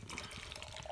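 Old Chub Scotch Ale pours into a glass in a short, close burst of fizzing, gurgling liquid, heard alone without talk.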